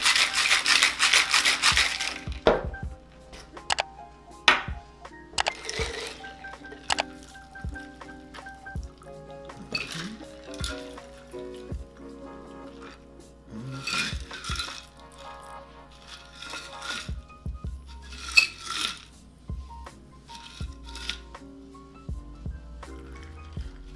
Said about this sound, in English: we're gonna add our ice and shake